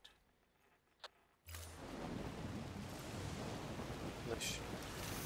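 Heavy rain in the video game Death Stranding starts suddenly after a quiet stretch with a couple of faint ticks, then pours as a dense, loud, steady hiss with low rumbling.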